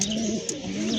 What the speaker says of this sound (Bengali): দেখতে পাচ্ছেন আর এক জোড়া কবুতর, অসম্ভব সুন্দর কবুতর দেখার মতো।